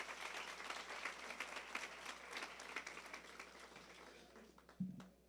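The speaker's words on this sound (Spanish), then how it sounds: "¿Cuánto le damos un aplauso al Señor por la vida del pastor?" A church congregation claps together in a dense, sustained round of applause that is heard at a distance and gradually thins toward the end, with a brief thump near the close.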